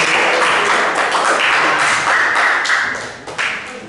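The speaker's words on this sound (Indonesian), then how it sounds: "Jadi silakan dulu tepuk tangan untuk kelompok" A classroom group claps together, producing a dense, loud burst of applause that runs steadily for several seconds before thinning out near the end.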